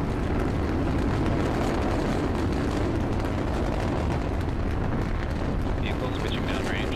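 Rocket engines roar through a launch ascent, a dense, rumbling, crackling wall of sound that stays loud and steady with faint chatter mixed in.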